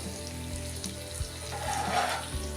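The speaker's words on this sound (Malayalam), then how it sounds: "ഇനി 2-3 മിനിറ്റ് കൂടി നമ്മുടെ മീനൊന്ന് തിരിച്ചു മറിച്ചിട്ട് ഫ്രൈ ആക്കി എടുക്കാം" Fish coated in masala frying in hot oil, a steady close sizzle with soft crackles and a few faint bumps, no voices.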